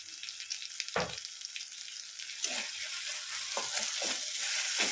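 Soybean masala with tomato and sugar is sautéed in a pan, giving a continuous close sizzle with a few sharp stirring scrapes, and the sound grows slightly louder toward the end.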